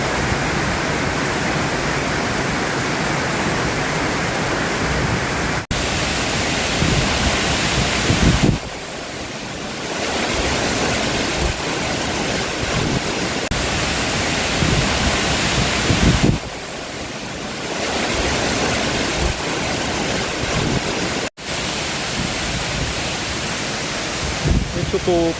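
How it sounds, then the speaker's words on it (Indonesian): Curug Luhur Cikurutug waterfall near Cireunghas, Sukabumi, runs in heavy rainy-season flow, a loud, constant, broadband roar of falling water close by. A few short breaks in the recording cut through it, and a voice is partly heard under the rush. "Curug Luhur Cikurutug debit airnya sedang besar karena saat kita datang ke tempat ini musim hujan"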